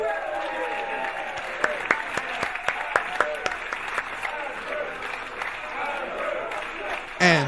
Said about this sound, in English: Give a massive round of applause, guys.